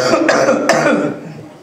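One loud, close cough with a throaty rasp, heard during an on-stage interview at a cultural night event.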